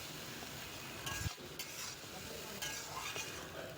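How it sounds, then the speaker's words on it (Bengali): Spice paste being sautéed and stirred with fried potatoes in a pan, a soft sizzle under intermittent scraping strokes and light clinks of the spoon, fairly quiet and close. "আমি এবার ভালো করে কষিয়ে নেব।"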